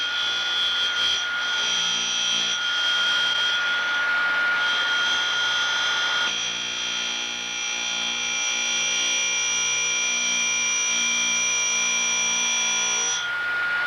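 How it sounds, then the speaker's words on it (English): A Cuttermaster tool grinder grinding a secondary clearance angle on an end mill flute, giving a steady loud whine with sustained high tones that shift slightly as the cut changes, continuous throughout. "the best way to do this is to grind one secondary clearance angle on one flute"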